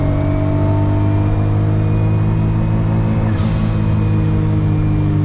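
Autozam AZ-1 on Navic coilovers winding through twisty roads, its engine droning steadily and loudly at close range with constant road rumble and a brief whoosh partway through.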